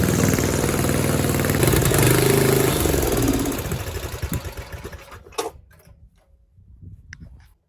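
A snowblower engine idling with a fast, steady putter, then sputtering and faltering as it runs out of fuel and cuts out to near silence, a few last coughs at the end.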